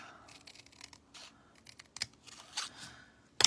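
Scissors snip through card stock for a handmade masculine hat-themed birthday card, a few short crisp cuts in quick succession, close and fairly quiet, ending with a louder sharp snip.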